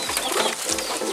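Mixed pigeons in a pigeon market, soft cooing calls close by over a busy background of more birds.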